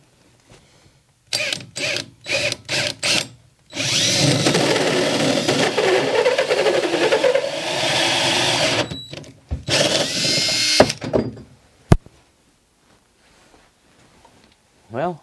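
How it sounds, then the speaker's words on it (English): Power drill boring a hole through a battery box for an off-grid solar venting setup, heard in several short bursts and then one long sustained run up close, with a brief clatter near the end. "Well, we got the hole drilled"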